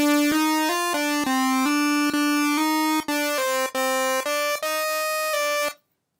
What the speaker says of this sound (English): Now let's listen to an analog synthesizer as one of the other inputs.